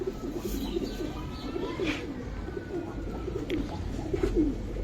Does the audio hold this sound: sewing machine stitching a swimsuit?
no